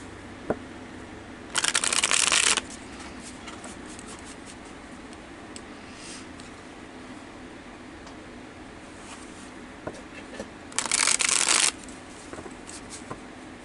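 Two short bursts of tarot cards being shuffled, each lasting about a second, separated by a long quiet stretch with faint ticks and rustles in between.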